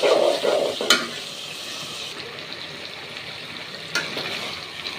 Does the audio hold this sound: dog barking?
no